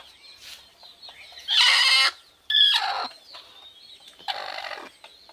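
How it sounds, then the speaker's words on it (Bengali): A village hen sitting on eggs in a small backyard coop gives a few loud harsh clucking squawks in separate bursts, with quiet gaps between. "আর এই যে এখানে মুরগি আর কি ডিম পাড়ছে।"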